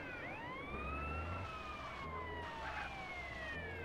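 A fire truck siren wails in rising and falling sweeps while the vehicle drives in GTA San Andreas, with a steady low engine drone underneath and no talk.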